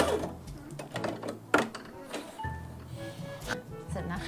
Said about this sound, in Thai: แล้วก็เย็บเก็บ